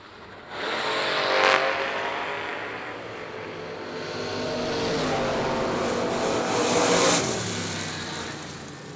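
A Camaro and a Chevy II Nova run side by side as drag race cars at the IHRA World Finals. Engine roar swells hard at the launch, eases, then surges again into a second loud peak before fading, heard from some distance.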